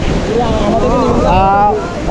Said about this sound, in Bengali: আছি হরিণমারা ট্রেলের হরিণমারা ঝর্ণা